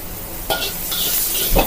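Lard sizzling in a hot pan while stir-frying yin-yang mee sua with onion: a brief hiss with a couple of sharper scraping bursts from the pan, close by and without speech.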